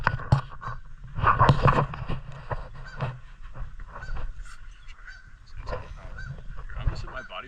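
A goose on an island honks repeatedly nearby, harsh shrieking calls in uneven bursts, with a person's voice occasionally heard in between.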